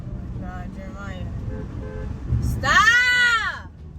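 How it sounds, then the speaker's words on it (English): A car horn honks once, loud and close, sounding briefly after people talk inside a car over the low rumble of the road. "For honking my horn?"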